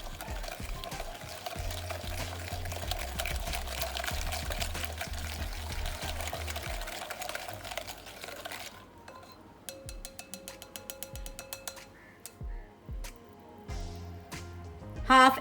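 Egg being stirred into a biscuit batter in a bowl, a steady wet mixing and scraping that runs continuously, then gives way to sparser clinks and taps near the end, with no talk.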